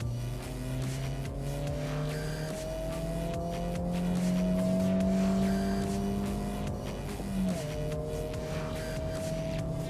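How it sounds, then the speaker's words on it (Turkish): A Honda Type R engine drones and revs from inside the car on a race track, steady and loud, pitch climbing and shifting with gear changes. "motor sesini duymaya başladınız."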